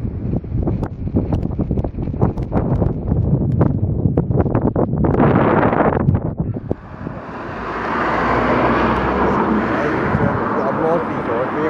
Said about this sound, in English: I like the plane.